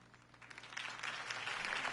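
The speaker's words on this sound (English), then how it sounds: "If only Mr. Wayne, my campaign's largest backer, could have heard that applause" Crowd applause at a political campaign rally in the Batman Telltale video game, clapping swelling from moderate to loud and dense, sustained without voices over it.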